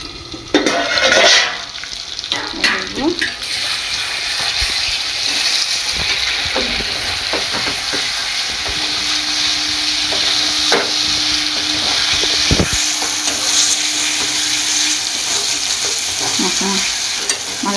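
Spicy mutton curry sautéing in a covered pan, with a steady sizzle and frying hiss throughout, broken by occasional stirring scrapes and clanks of a utensil against the pan.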